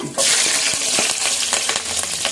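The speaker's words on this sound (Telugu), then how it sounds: "మసాలాలు వేసుకొని కొంచెంసేపు వేయించండి మాడనివ్వకండి" Whole spices fry briskly in hot oil in a pan, giving a loud, close, dense sizzle with light popping and crackling throughout the short burst.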